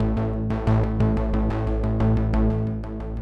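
A snappy analog synth bass plays an arpeggiator sequence of short, punchy notes in a steady, fast repeating pattern. It sounds loud and upfront, with no voices.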